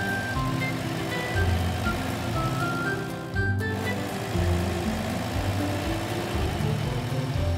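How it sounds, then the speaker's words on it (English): A street sweeper's large engine idles with a steady low rumble and mechanical whine, briefly cutting out near the middle before resuming. "The street sweeper is starting to clean the road."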